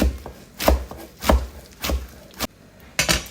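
Knife chopping tender young cane shoot greens (bet shak) on a board, about six sharp, evenly spaced thwacks close by with short pauses between, no talk.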